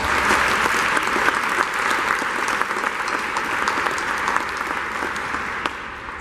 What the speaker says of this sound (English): Let's give RMC a round of applause.